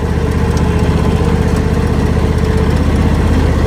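A lawn mower engine runs steadily and close by, a constant loud motor drone with no breaks and no voices, cutting grass in a yard with several trees.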